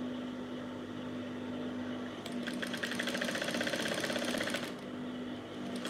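A sewing machine runs a top stitch on a gown near a basque waistline, a close, fast mechanical whirring burst of a few seconds over a steady low electrical hum, with no talking.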